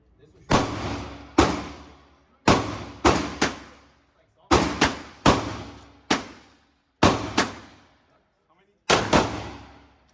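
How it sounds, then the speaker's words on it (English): Shots from a Springfield Garrison 1911 pistol fired at a range, about ten loud, sharp reports spaced roughly a second apart, some in quick pairs, each ringing out with a short decay. "I'll keep shooting some more."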